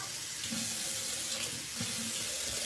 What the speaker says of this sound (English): you just fill it with warm water right to the top.